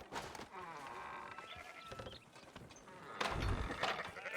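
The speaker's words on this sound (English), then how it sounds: "Fine sheep." Sheep bleat faintly in Red Dead Redemption 2, a few wavering calls amid ambient farm noise and low background rustling.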